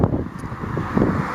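Wind on a cool, windy day during a walk through Piedmont, rushing as a steady, close, rumbling buffet across the microphone with no voices.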